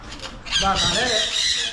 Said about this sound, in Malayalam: എൻ്റെ കുറേ കണ്ട ഒത്തിരി കിളികൾ ഇരിക്കുന്നേ